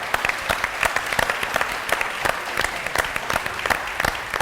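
Crisp, fairly close applause rises from a studio audience after a speech on a televised Ramadan debate program. Many hands clap steadily and unevenly, with faint crowd noise underneath.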